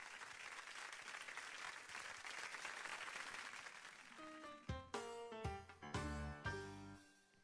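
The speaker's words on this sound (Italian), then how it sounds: "Applauso, facciamo un bel applauso." Faint applause from an audience at a singing show, a steady patter of clapping for several seconds that gives way to a tango song starting up.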